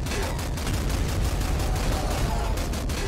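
Dense, continuous gunfire from the video game Nuclear Throne, with rapid overlapping shots and blasts, loud and sustained throughout.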